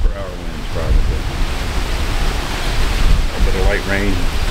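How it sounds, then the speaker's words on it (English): Gusty wind of roughly 30 mph roars and buffets the microphone during a severe thunderstorm by a house, loud and continuous, with a voice speaking in bursts over it. "Gusty winds coming off of this."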